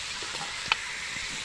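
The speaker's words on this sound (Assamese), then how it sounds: "এয়া মাংস ভাজি আছোঁ" Broiler chicken meat frying in a pan with onion, ginger and garlic gives a steady close sizzle, broken by one short sharp clink partway through.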